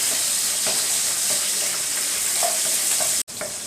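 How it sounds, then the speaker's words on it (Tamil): Chopped small onions (shallots) sauté in hot oil in a pan for a drumstick-leaf sambar, giving a steady close sizzle with occasional stirring scrapes and a brief cutoff near the end. "சின்ன வெங்காயத்தை சேர்த்துட்டு நல்லா வதக்கிடலாம்."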